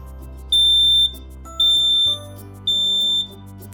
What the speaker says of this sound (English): Okay, so that's the sound of our smoke alarm.